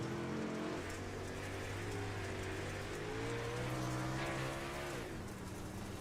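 A dirt-track racing car engine at a Dirt Outlaws event drones steadily at speed, its pitch dipping as the driver lifts off the throttle and then climbing again as he gets back on, with rain-like grit and crowd noise underneath.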